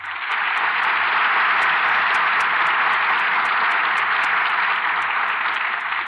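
A studio audience at a radio theatre broadcast applauds its stars in a steady, dense wash of clapping that holds loud and even from start to finish.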